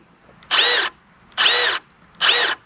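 Hart impact driver running in three even, equal-length bursts with short pauses between, each a loud, close, high-pitched whirring whine, no talking.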